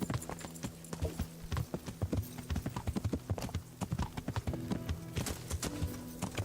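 Horse hooves clip-clop steadily in Kingdom Come: Deliverance, a medieval role-playing game, the rapid rhythmic footfalls close and prominent throughout, with a faint game backdrop and no talk.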